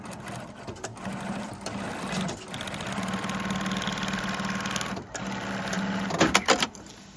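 A sewing machine stitches a line along the edge of laminate-lined fabric, a steady close mechanical whirr that runs for several seconds with a brief pause midway.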